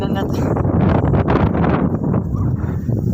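Strong wind buffeting the microphone on a hilltop summit during a bike ride, a constant loud low roar with gusty surges, with talk from riders over it.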